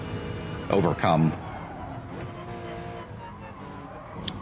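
A race car in Gran Turismo Sport on the Nürburgring GP circuit gives a short burst of engine roar and tire squeal over a steady engine drone, with someone talking over it.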